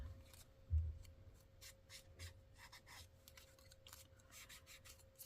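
Paper edges distressed before cutting out, faint close rasping rubs in short repeated strokes over a quiet background hum.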